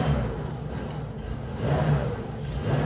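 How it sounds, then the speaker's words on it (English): A 1992 Porsche 911 964 Carrera RS Clubsport flat-six with a light flywheel, heard close up as it fires up and idles with a low, steady rumble that swells briefly. "We're going to fire it up."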